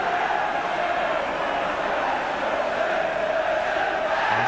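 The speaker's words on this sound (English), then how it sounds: "Once again a packed crowd." A packed football stadium crowd at an Everton v Liverpool FA Cup replay roars in a steady, continuous din, loud and dense throughout with no pauses.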